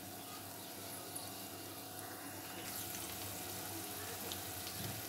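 Potato balls shallow-frying in oil over a low flame, giving off a steady, soft sizzle with faint crackles that continues evenly with no one speaking.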